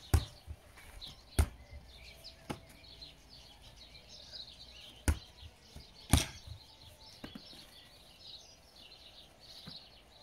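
A volleyball bumped twice off the forearms and caught during a home workout drill, with four or five sharp, isolated thumps spaced a second or two apart against a quiet room with faint background chirping.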